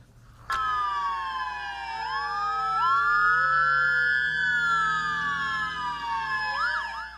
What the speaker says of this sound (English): A procession of ambulances made its way through Belize City on Sunday evening